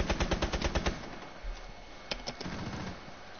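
Rapid automatic gunfire bursts out in Rainbow Six, a fast rattling string of shots up front followed by scattered, more distant single shots and clatter.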